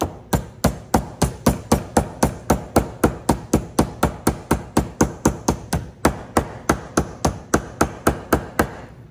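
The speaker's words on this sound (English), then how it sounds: "So you can always put a hammer to it." Steady, evenly spaced hammer blows strike a metal jaw bracket to bend it, roughly three hits per second, loud and close with sharp metallic attacks, no talking.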